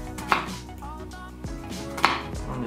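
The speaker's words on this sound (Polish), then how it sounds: "Tak naprawdę to są igiełki, które ułatwią nam krojenie cebuli" An onion is chopped on a board with a needle-style onion-cutting gadget, giving a few sharp chopping knocks spread over a couple of seconds with quieter handling noise between, close and clear, no talk.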